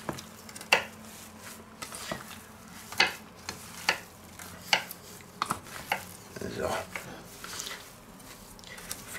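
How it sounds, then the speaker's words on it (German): A soft sizzle of meat frying in a pan, broken by sharp clinks and scrapes of utensils against the cookware at an irregular pace. "dann ist das Fleisch eigentlich schon so weit, dass wir das anbraten können"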